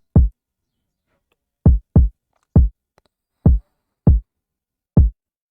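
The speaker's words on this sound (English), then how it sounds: "The second kick guys sound like this" A second kick drum sample for an Afrobeat in FL Studio, sounding as a series of short, deep, dry thumps in a loose, syncopated pattern, each clean and isolated with silence between.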